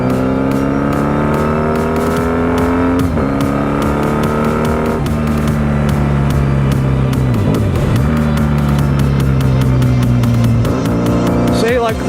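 A motorcycle being broken in is ridden with hard braking, its engine loud and close as the revs fall and rise through repeated downshifts, with someone talking over it.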